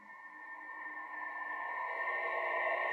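A SNOO smart sleeper bassinet plays its level 3 soothing sound, a steady, unbroken hiss with a sustained tone running through it, growing slightly louder over a few seconds with no talk.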